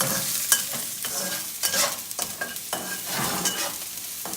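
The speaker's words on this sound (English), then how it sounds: "Let's put the mushrooms in. Don't put the green onions in yet. Just put the mushrooms in. Give this a good stir." Garlic and mushrooms frying in a pan are stirred vigorously, with irregular close scraping and clattering strokes over a bright, continuous sizzle.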